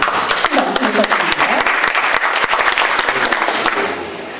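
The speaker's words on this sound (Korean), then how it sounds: "큰 박수 부탁드립니다" Audience applause welcoming lawmakers at the launch ceremony of a presidential campaign jobs committee, a loud, dense wave of many hands clapping that holds steady and then starts to fade near the end.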